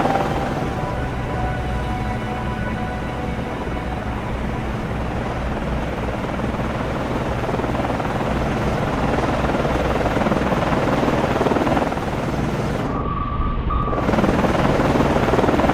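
Helicopter flying in the naval combat game Cold Waters, a steady loud rotor and turbine drone holding throughout, with a short electronic beep near the end.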